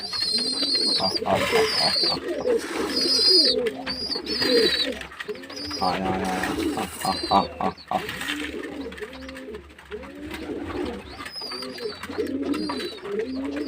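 A group of pigeons eats grain close by while their throaty cooing repeats in soft, rolling phrases that overlap throughout, with light rustling and some human talk in the background.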